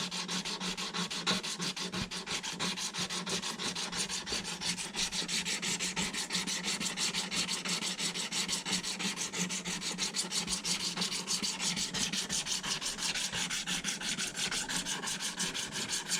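A Stanley 151 spokeshave blade being rubbed back and forth on a 600 grit sharpening stone, a fast, even rasping scrape repeating steadily throughout, close and fairly quiet, with no talking.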